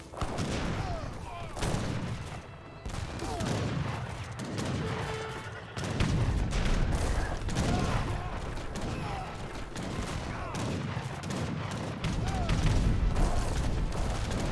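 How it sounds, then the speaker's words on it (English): Heavy cannons fire in an Age of Empires 3 battle amid dense volleys of musket gunfire, producing repeated booms and crackling shots that overlap continuously at fairly loud level. "Got some heavy cannons firing away."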